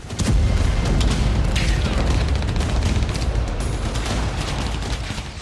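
A loud, sustained rumbling blast from an Iskander-M missile strike on a weapons depot, with crackling debris and a heavy low-end roar that slowly fades, no voices.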